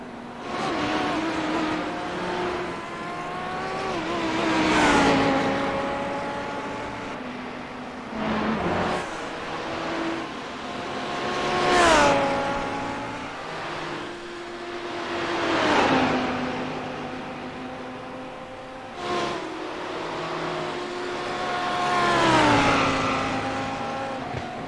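Race car engines scream past one after another at the Bathurst 12 Hours, each pitch sliding and dropping sharply as the driver downshifts, with gaps of quieter track noise between.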